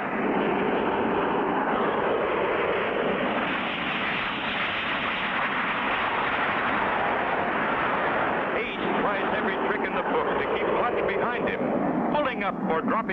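Propeller airplanes racing around a pylon in a 1959-60 cartoon air race, their engines a steady loud roar throughout, with added crackling toward the end.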